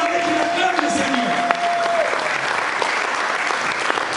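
Congregation applauding in acclaim of the Lord at a church service, steady sustained clapping filling the room throughout, with a brief whistle-like tone early on and voices mixed into the crowd.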